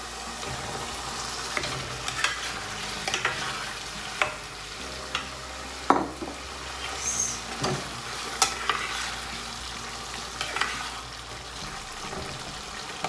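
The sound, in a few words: fried eggs cooking in curry gravy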